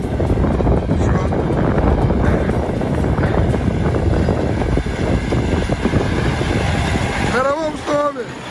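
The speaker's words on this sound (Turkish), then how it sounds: "Rüzgar esiyor. Bakın çok rüzgar var." Strong wind roars over an open cotton field, buffeting the microphone in a loud, constant rumble, with a short tonal engine whine rising near the end.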